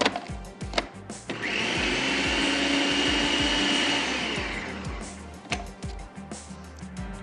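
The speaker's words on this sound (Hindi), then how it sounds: "डबल रोटी और प्याज तमाम चीज़ें बहुत अच्छे से चॉप हो गई हैं" Food chopper whirring loudly as it chops bread and onion, a sustained motor grind lasting several seconds, bracketed by clicks and knocks of handling before and after.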